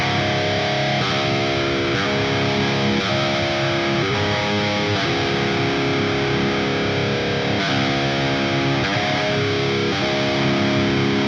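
Heavily distorted electric guitar through a Mixwave Spiritbox amp simulator plays sustained chords that change every second or so, buzzing and saturated, with no voices.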